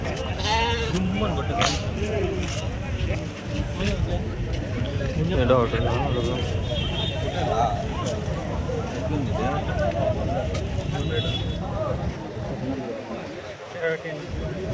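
Sheep and goats bleat repeatedly over a busy Saturday-morning livestock market, with a dense crowd of voices talking and bargaining throughout.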